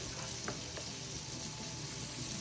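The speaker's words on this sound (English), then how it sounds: "We're going to make a roux, which is butter and flour mixed together." Butter and flour for a roux sizzle in a pan, a dense, even crackling hiss that carries on steadily with a couple of faint taps and no voices.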